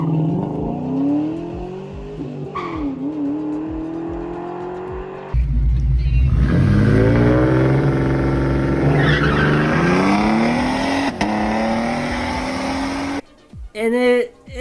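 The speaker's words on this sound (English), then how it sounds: "Lately, I've been trying to slip the clutch and just practice my feathering" A car launches on Nitto NT555R2 drag radials with the clutch slipped, the engine climbing in pitch through a long pull, then surging louder midway and cutting off abruptly near the end.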